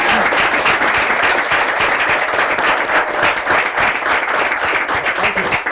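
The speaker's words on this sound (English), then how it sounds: "I just also ask if everyone can give a big round of applause to Samir?" A live audience at a walking-group conversation event gives a big round of applause for Samir, dense and loud with sharp overlapping claps sustained throughout.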